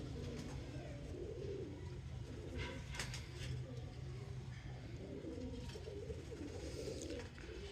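A champion pigeon coos in repeated low rolling phrases, fairly close, over a steady background hum with faint distant bird chirps.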